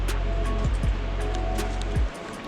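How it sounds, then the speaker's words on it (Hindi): Rushing water at Maneri dam near Uttarkashi, a steady broadband roar of flowing water heard continuously with low rumbling underneath, fairly loud and unbroken before dropping off near the end. "इस साइड कहीं डैम की आवाज़ अगर आपको आ रही होगी"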